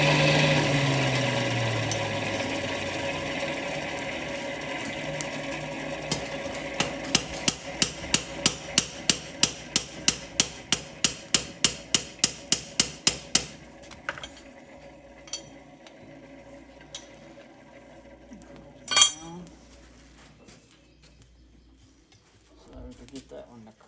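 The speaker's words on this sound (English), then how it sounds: "I'm going to brad that rod down. I'm going to brad it down and make that hold together." A blacksmith hammers down the end of an iron rod in an Appalachian forge, a fast, even series of about twenty sharp ringing strikes after a stretch of softer background noise, then a single loud clank later.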